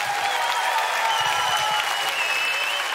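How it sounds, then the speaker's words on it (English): An arena crowd at a Fortnite tournament at the Australian Open claps and cheers in a loud, dense burst of applause that fills the whole moment, with faint voices mixed in. "Can we get a round of applause, please?"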